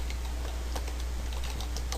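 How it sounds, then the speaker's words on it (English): Soft, irregular key taps on a computer keyboard, close and quiet, with a low steady hum underneath. "I'm typing these tags in and it's making them blue"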